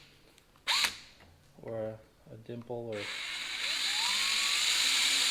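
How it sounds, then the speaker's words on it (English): A small drill bit bores into a brass well check valve, a high steady whirring grind that starts after someone briefly talks and then runs continuously and close. "Get yourself a small drill bit."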